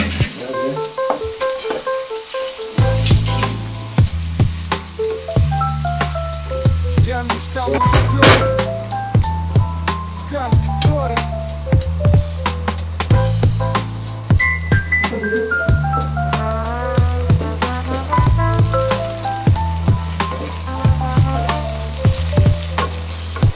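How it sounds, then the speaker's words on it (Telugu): Chicken fry cooks with onions in a pan, making a continuous close sizzle under steady, rhythmic background music that lasts the whole stretch. "చికెన్ ఫ్రై చేస్తాం."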